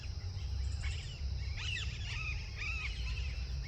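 Birds call in a tea garden near Dharamshala in India: sharp, chirping bursts in two distinct clusters over a constant low background hum.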